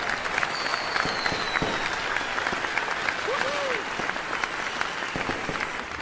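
Scattered people applauding in an online meeting, a thin, steady patter of clapping at modest volume, with a couple of faint whistle-like tones and some background voices mixed in.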